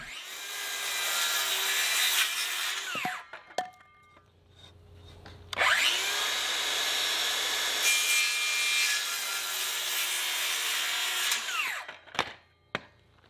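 A wooden block is cut with a power saw in two long, loud passes that whine up and die away, with a short lull between them and a few knocks and clatters at the end.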